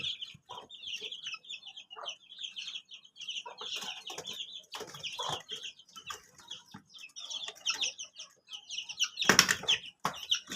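Backyard Texas chickens about a month old cluck and chatter busily up close, with repeated bursts of wing flapping and one loud flurry near the end.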